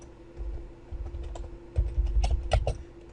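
Brief bursts of keystrokes as a command is typed on a computer keyboard at a Python console, close and clicky, growing denser toward the end, with no speech.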